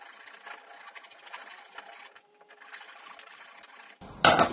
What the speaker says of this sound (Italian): prendiamo una lima, meglio quella per il ferro che è un po' più fine, diamo una limatina